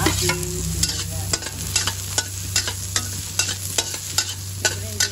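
Ginger and onion sizzle in hot oil in a pan for Filipino fish tinola, with a steady fry hiss, low burner hum and repeated sharp scrapes and clacks of a spatula stirring at a brisk, uneven rhythm.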